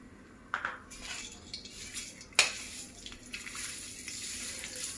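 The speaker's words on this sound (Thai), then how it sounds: "ค่อยๆผัดไปเรื่อยๆจนเครื่องแกงหอมนะ" Southern Thai curry paste with a little shrimp paste is stir-fried in a pan over low heat: a soft steady hiss under intermittent utensil scrapes and clinks, one sharp metallic strike standing out.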